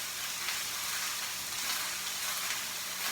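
Mushrooms sizzle hard in a hot pan on high heat, a dense, continuous frying hiss that stays steady and close throughout, with no voices.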